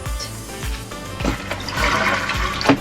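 A camper toilet flushes after a gasket repair, water rushing and gurgling steadily through the bowl with a few knocks, close and fairly loud, no talking.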